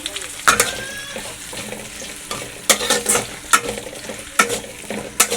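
Chopped onions, curry leaves, dried chilli, cardamom and other whole spices fry in hot oil, a bright crackling sizzle punctuated by repeated sharp scrapes and clinks of a spoon stirring the pan, close and lively.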